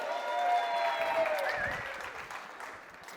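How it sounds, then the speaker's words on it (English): A conference audience at a social media event claps on cue for a speaker, a moderate wash of applause that swells, then gradually thins and fades over about three seconds. "Will you guys clap one more time?"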